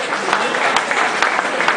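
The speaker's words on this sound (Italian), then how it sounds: "quindi un applauso a Paolo Modolo" An audience applauds Paolo Modolo with steady, fairly close clapping and a few sharper claps standing out, while some talk runs faintly underneath.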